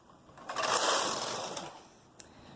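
A knitting machine carriage sweeps across once, knitting ribbing with ribber weights hung, a smooth whooshing mechanical rush swelling and fading, followed by a small click.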